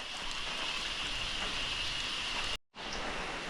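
Steady, dense rain hissing on surfaces near a roadside waiting shed in Moolamattom, Idukki, a constant even wash of sound that cuts out abruptly for a moment before resuming.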